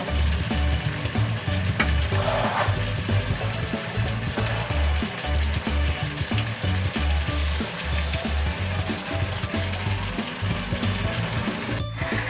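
Tochong tilapia, a fish stew, cooks in a pan with a steady close sizzle and bubbling, with occasional stirring scrapes in a soft repeating rhythm.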